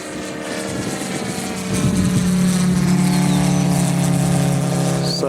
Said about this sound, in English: Such a pretty airplane